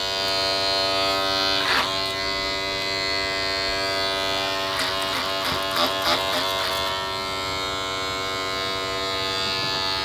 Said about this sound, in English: I'm gonna clip over comb a lot of this